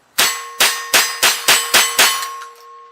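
Ruger 10/22 rifle firing Norma ECO Speed-22 lightweight high-velocity .22LR rounds in a rapid magazine dump: seven loud, sharp cracks at an even quick rhythm, each with a short ringing tail, close and alone with no talk.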